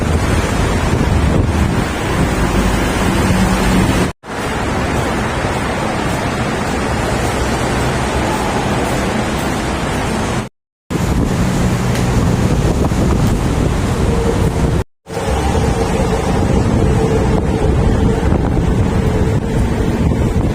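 Strong gusting wind buffeting the microphone, a loud continuous roar with brief dropouts, resembling surf or rushing water.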